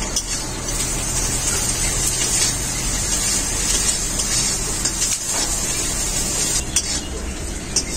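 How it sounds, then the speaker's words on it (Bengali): Onion sizzling steadily in hot oil with salt in a pan, a constant bright hissing crackle that holds at even loudness for several seconds with no one speaking. "পেঁয়াজটাকে হালকা করে ভেজে নিয়েছি"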